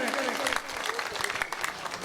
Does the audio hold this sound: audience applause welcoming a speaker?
yes